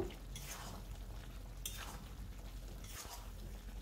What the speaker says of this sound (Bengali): গুঁড়ো করা মশলাটা দিয়ে খুব ভালো করে নাড়িয়ে চাড়িয়ে নেব